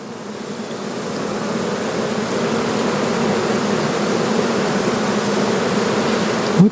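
Honeybees buzz densely around a frame of queen cells, a steady, close, continuous drone with no talking until a brief knock at the very end.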